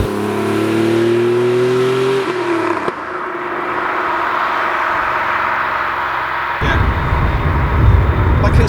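An air-cooled, rear-engined Porsche 964 is driven on a country road, its engine revving up through a gear and then settling into a loud, steady cabin roar with road noise, heard from inside.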